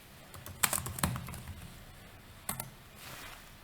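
A name being typed on a computer keyboard into a spreadsheet cell: a few close, crisp key clicks in two short clusters, with a soft hiss between them.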